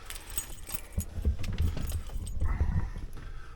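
Keys are pulled from a pocket beside a van with a close, repeated metallic jangling and rustle. They clink irregularly throughout with no speech.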